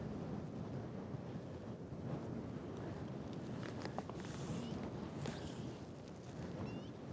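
Wind buffets the microphone in a continuous low rumble beside the Green River during a fly-fishing outing, steady and fairly loud throughout with faint water sounds underneath.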